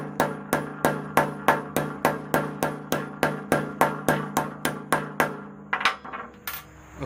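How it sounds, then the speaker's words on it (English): A 32-ounce ball peen hammer strikes a cutting die through a towel in a steady series of about sixteen sharp, ringing metallic blows, evenly spaced and loud, ending with a few lighter, scattered taps. "I'm using a 32-ounce ball peen hammer"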